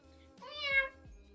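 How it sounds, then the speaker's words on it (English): A house cat gives a single drawn-out meow, rising then falling, close and fairly clear over a quiet background with a low repeating hum. "That's our cat, Gabby."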